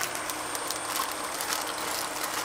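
Rapid ratcheting clicks and whirring as a screw is driven into an ebike booster pack, a continuous close mechanical buzz with no voices.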